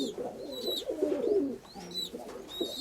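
Pigeons in a loft coo softly in low, rolling murmurs while feeding their young, with thin squeaky chirps from the chicks overlapping nearby.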